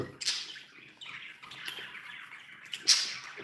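Birds chirp and squawk in short, irregular bursts at moderate distance, with one sharper squawk near the end and no talking.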